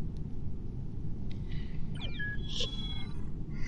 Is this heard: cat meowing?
yes